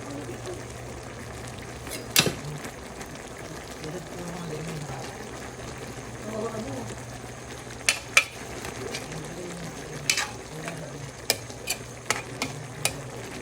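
Ginataang sitaw with chili simmers and sizzles softly in a pan, with scattered scraping stirs and utensil clinks against the metal, while a person talks over the cooking.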